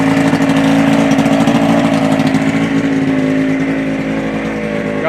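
A skiff's outboard engine runs loud and close throughout a water test, holding a steady droning idle with a slight easing of level toward the end, with no talking over it.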